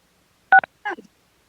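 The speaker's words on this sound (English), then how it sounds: "follow the prompts to unmute at this time by pressing *6" Two short touch-tone keypad beeps from a telephone dial in quickly on a remote public commission meeting call, followed by a brief faint shuffle, then silence.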